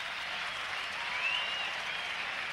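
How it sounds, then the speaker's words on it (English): Steady crowd applause from the Sheridan stand at the Sydney Cricket Ground during a 1983/84 one-day match between Australia and the West Indies, heard as an even, distant wash of clapping with no breaks. "And applause from down that Sheridan stand in for Geoffrey Lawson."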